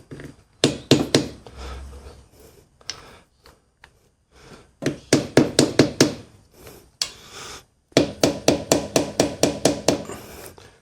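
A hardwood block taps against parts of an EFI-500 engine through an inspection panel, sharp close knocks in quick rhythmic bursts of several strikes separated by short pauses.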